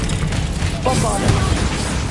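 Bombarda explosion spell cast in Hogwarts Legacy, a dense, loud burst of booming noise with crackling debris layered over continuous game sound, holding steady for about two seconds.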